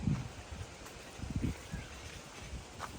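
Strong wind blows across an open farmyard, giving a rough low buffeting rush with faint leaf rustle, close and steady, with no voices.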